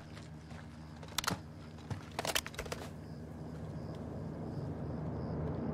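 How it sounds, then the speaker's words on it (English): A helicopter, a supply-drop chopper in the Modern Warfare 2 campaign, approaches as a broad, steady rotor-and-engine rumble that grows gradually louder, with a few sharp clicks and mechanical clatters early on and no voices. "Got a heli incoming. Looks like a supply dropper."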